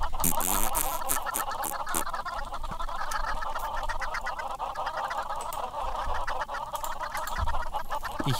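A crowd of Minecraft chickens clucks in a dense, continuous chatter of rapid, overlapping calls, loud and close and going on throughout.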